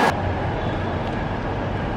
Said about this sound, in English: I can hear the train passing by